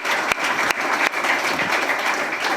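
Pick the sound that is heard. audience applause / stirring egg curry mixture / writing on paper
audience applause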